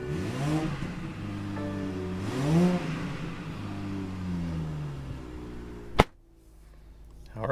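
A 2021 BMW X6, non-M model, revving its engine up and down in a steady, fairly loud rise and fall, ending in a sharp thump followed by near silence.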